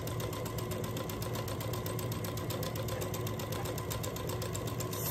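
A sewing machine runs continuously while stitching quilt pieces at a quarter-inch seam, a fast, even mechanical whir with rapid regular needle ticks, close and steady throughout.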